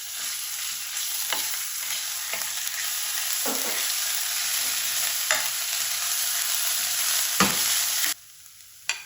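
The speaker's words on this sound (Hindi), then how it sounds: "यहाँ पे अदरक लहसुन का पेस्ट है खाने का 1 चम्मच, ये इसके अंदर डाल देंगे" Ginger-garlic paste, about a spoonful, frying in a hot pan, a loud continuous crackling sizzle with occasional spoon scrapes and stirring clatters, cutting off sharply near the end with no talk.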